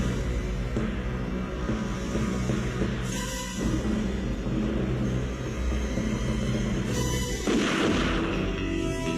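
Gunshot from the Licence to Kill James Bond gun barrel sequence, two sharp bursts standing out over a dense, loud orchestral and rumbling score, the second near the end followed by a broad noisy swell.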